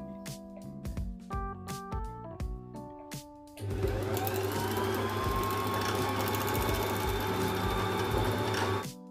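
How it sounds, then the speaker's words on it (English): A Brother JC14 portable free-arm sewing machine starts up and runs its bobbin winder, a steady loud whirring hum that holds for several seconds, after some earlier clicks and knocks of handling. "gently press the foot controller to wind the thread around the bobbin a few"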